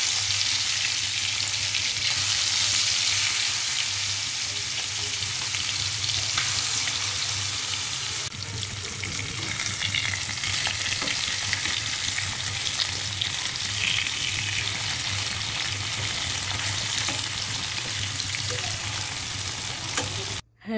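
Fish frying in oil, a loud, continuous crackling sizzle close up that holds steady for the whole stretch, dense and even with no voices over it.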